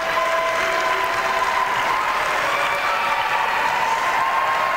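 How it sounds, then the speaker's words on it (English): A girls high school basketball regional game: the coach, the bench and a standing home crowd clap and cheer in a gym, a thick continuous wash of applause with a faint whistle-like tone held throughout. "Coach Simmons clapping, the bench clapping, the crowd is up and clapping."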